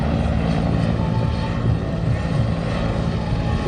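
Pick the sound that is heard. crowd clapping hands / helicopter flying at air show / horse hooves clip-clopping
helicopter flying at air show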